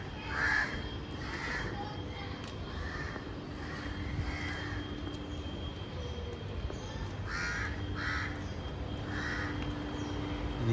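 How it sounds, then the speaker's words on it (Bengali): Crows cawing repeatedly outdoors near a residential building in Mumbai, harsh calls coming in loose bursts at moderate distance over a steady ambient hum. "পশু তো না, পাখি অনেক ডাকাডাকি করছে।"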